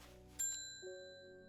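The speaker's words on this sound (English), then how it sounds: "Wait, I hit the bell somehow." A bright bell chime rings in the video game Strange Horticulture, two quick metallic dings with long sustained ringing tones that fade slowly, heard alone without talk.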